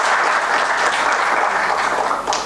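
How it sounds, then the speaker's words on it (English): Dense, loud applause from an audience at an educational complex event honouring Justice Gogoi, continuous and close throughout. "A big round of applause for Hon'ble Justice Gogoi"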